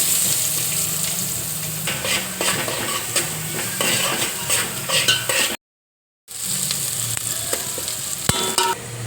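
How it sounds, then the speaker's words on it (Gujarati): Chopped onions fry in hot oil with mustard seeds, green chillies and asafoetida, a tempering for guvar dhokla. A close crackling sizzle is broken by frequent stirring scrapes, with a short silent gap midway. "હવે આપણે ડુંગળી નાખી દઈએ આમાં"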